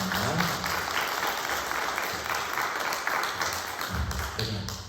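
Congregation at a Korean Methodist church Sunday service applauds to welcome a visiting guest, a steady crowd of clapping hands sustained for about five seconds at moderate distance.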